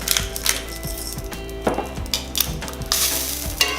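Salt-and-peppered tomatoes sizzle in a hot skillet as they are rolled around, a steady crackling hiss broken by soft clinks and scrapes from stirring, close and fairly loud.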